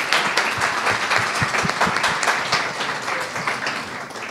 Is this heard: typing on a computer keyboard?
no